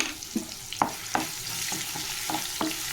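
Crushed garlic with its skins and two dried red chilies fry in a pan for a mango coconut pickle, giving a soft continuous sizzle broken by about eight light scrapes of stirring spaced through the clip.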